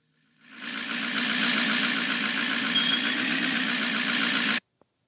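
Tractor engine in the Off-Road Outlaws video game, tuned for pulling and pushed toward top speed: a steady, loud droning roar that builds up and then holds for about four seconds before cutting off abruptly.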